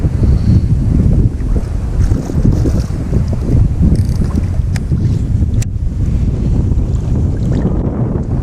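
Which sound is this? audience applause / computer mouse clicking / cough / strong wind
strong wind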